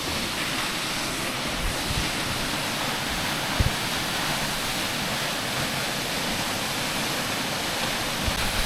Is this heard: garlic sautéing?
no